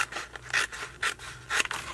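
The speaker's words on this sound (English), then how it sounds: "I'm just going to take a pair of scissors and cut a piece of this off" Scissors snip through a piece of paper during a junk journal craft session, with about four quick, crisp cuts in an irregular rhythm, heard close and alone.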